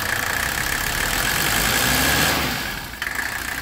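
A car engine with a recently leaking wastegate hose drops from a steady, loud running drone back to a smooth idle near the end, heard up close with no talking.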